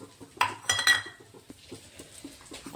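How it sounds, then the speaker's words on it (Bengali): Split chickpeas (chana dal) poured into a bowl of pre-washed rice for dosa batter, giving a few close, sharp rattling clinks against the bowl, then softer scattered taps. "এখন আমি দিয়ে দিচ্ছি কিছু ছোলার ডাল"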